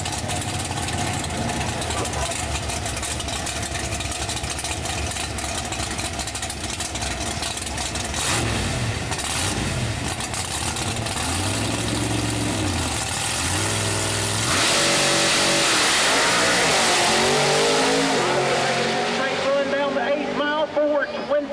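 A Tommy Moody-built 1963 Corvette pro mod drag car revs at a dragway, its engine blipping in repeated rising bursts before a sustained loud roar, with an announcer talking over it.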